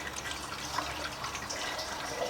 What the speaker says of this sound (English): Oh, no, it's dripping. She's dripping.